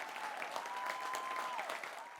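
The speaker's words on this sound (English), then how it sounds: "Round of applause for Boba Fett" An audience breaks into steady, sustained applause welcoming a guest to a Star Wars-themed interview segment. The clapping stays dense and even throughout, close and fairly loud, with a thin steady tone running beneath it.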